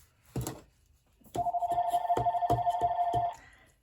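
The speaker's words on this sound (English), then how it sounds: "Sorry, the house phone's ringing." After a brief knock, a house telephone bell rings nearby in a quick trill of about six rapid pulses.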